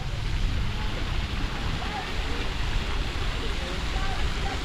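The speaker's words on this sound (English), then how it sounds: "I'm gonna check out this waterfall right here, or this fountain rather." The Capitol Fountain in Lincoln, Nebraska, gives a close, steady, full-bodied roar of splashing and falling water with no breaks.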